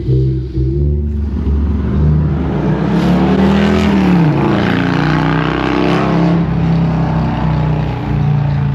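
Loud engine of an unmuffled vehicle roaring up close, a deep rumbling drone whose pitch rises and falls as it revs, sustained throughout without talk.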